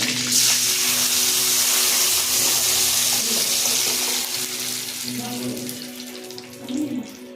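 Mashed dal water and brinjal pieces are poured into a hot tempering pan with curry leaves, setting off a loud, steady hissing sizzle that gradually eases, with faint bubbling near the end.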